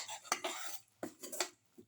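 A curry leaf, salt and water mixture is stirred in a pan for a garlic, cucumber and tomato casserole, giving a few close, sharp utensil scrapes and clinks against the pan with short pauses between them.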